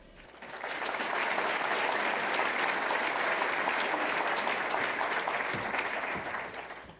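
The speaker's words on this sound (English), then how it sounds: "Please join together now in applauding the contributions of all these supporters" A banquet audience at a Red Cross event breaks into sustained applause, a dense steady wash of many hands clapping that swells in, holds for several seconds and begins to fade, with no voices over it.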